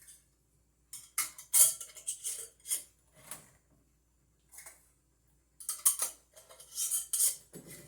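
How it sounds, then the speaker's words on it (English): Metal lids and screw rings being twisted hand tight onto glass canning jars filled with pork broth, several bursts of gritty scraping and metallic clicking separated by quiet pauses, close and fairly soft. "I've got my lids and my rings. I'm just going to tighten them down hand tight."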